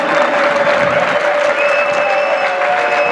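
At an amateur football match between Audax Cervinara and FC Paolisi, after the final whistle, a crowd applauds both sets of fans with steady, loud, continuous clapping, a whistle-like tone held above it.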